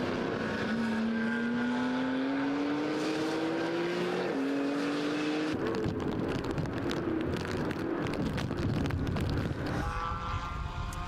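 Race cars power out of a corner at the Jerez circuit during a winter series round, engines rising in pitch through the gears, loud and close with overlapping cars and wind rumble, one car passing and another following.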